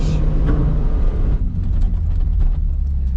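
A Ferrari 458 Spider engine pulling hard under throttle, a loud dense roar close to the listener that shifts in tone after a second and keeps droning with rumble, no talk.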